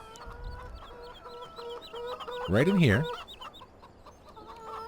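Chickens cluck steadily in a repetitive, slightly synthetic pattern in the video game Farming Simulator 17, with a brief rooster-like squawk in the middle and a voice speaking briefly near the start.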